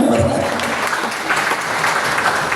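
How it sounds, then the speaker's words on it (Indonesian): A church congregation claps together during a worship service, a dense, steady wash of applause from many hands that carries evenly throughout, with some brief voices mixed in. "Berikan tepuk tangan"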